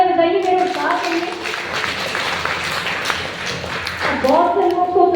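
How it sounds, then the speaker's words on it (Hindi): Applause from a large audience at a business seminar, broad and steady for about four seconds, with a voice speaking over the start and again near the end. "एक बार जोरदार तालियां बजाइए मेरे साथ।"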